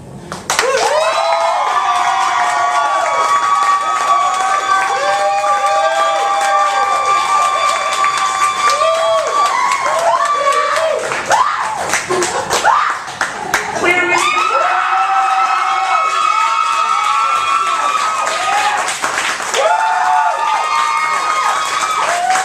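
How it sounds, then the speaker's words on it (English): A poetry slam audience erupts in loud cheering, whoops and shouts with scattered applause, sustained for around twenty seconds with a short dip midway before the roar returns. "Audience, as a reminder, applaud only for the piece that you like the most."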